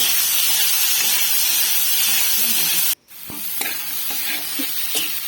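Spiced chickpea and potato fry with turmeric, salt and cumin stirred in a hot pan: a loud continuous sizzle, a brief break, then scraping stirs and crackles resume, close by with no talk.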